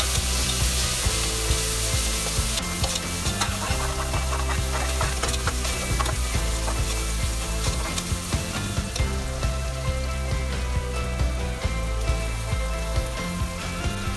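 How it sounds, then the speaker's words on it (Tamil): Ginger garlic paste being stirred in a hot pan gives a continuous hissing sizzle, partly buried under loud background music throughout. "அதுக்கப்புறமா இஞ்சி பூண்டு பேஸ்ட் போட்டு நல்லா மிக்ஸ் பண்ணி வச்சுக்கோங்க"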